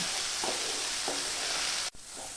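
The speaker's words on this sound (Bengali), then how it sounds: "দিয়ে দেব হাফ চামচ জিরে গুঁড়ো ও হাফ চামচ ধনে গুঁড়ো তারপর মশলাটাকে ভালো করে কষিয়ে নেব" Masala with cumin and coriander powder being sautéed, a continuous close sizzle with a couple of gentle stirring scrapes and a brief dip near the end, no voices.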